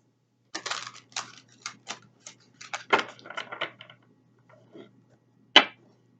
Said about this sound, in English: So let me just give a couple more quick shuffles, and then we'll start drawing the card.